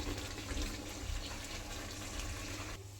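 Water poured steadily into a pot of cooking meat curry, a continuous close splashing rush that cuts off abruptly near the end.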